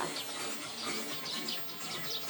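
Faint bird chirps and tweets come through in short bursts over a soft, steady background hum, at a cafe in a converted old textile factory on Ganghwa Island.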